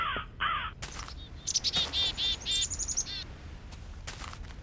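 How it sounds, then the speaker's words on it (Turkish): Crow cawing in the Minecraft game, a series of harsh, rhythmic caws in quick succession, with a few higher chirps and clicks mixed in around them, fairly close and clear. "Ha karga sesi o"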